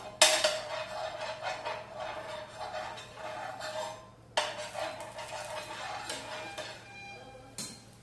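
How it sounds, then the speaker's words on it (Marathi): A tissue wipes ghee across a hot dosa tawa: close, dry, rustling scrape strokes in two long passes with a few sharp knocks against the metal, and no voices. "गरम तव्यावरती आपण असं टिश्यूने हे जे तूप आहे ना ते सर्व साईडला लावून घ्यायचंय"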